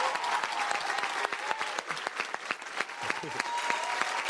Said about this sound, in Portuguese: Vamos aplaudir mais forte ao Senhor.